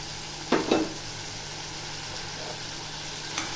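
Chopped ridge gourd drops into a pan of frying chana dal with two soft thumps near the start, then a steady low sizzle continues.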